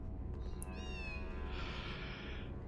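A kitten in the Harry Potter and the Philosopher's Stone video game gives a single high, rising meow over a steady low game background hum.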